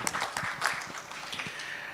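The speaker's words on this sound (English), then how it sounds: "give him a bigger round of applause" Audience applause for Abhijit at an awards conclave, a steady patter of many hands clapping at moderate volume for a couple of seconds.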